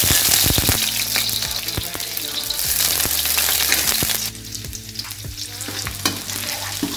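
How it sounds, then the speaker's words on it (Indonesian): Garlic sizzles and fries in hot oil along with sambal and spices, a loud, steady crackling hiss with occasional stirring clatter, close up and without talk. "bawangnya kita tumis sampai wangi"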